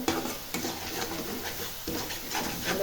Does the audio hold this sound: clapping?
no